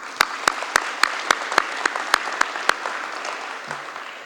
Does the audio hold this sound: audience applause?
yes